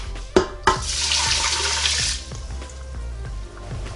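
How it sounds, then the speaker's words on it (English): Water pours steadily into an Emeril Lagasse pressure air fryer pot for a couple of seconds after two sharp clunks, then fades into a quieter trickle. "going to also pour in my 2 cups of water"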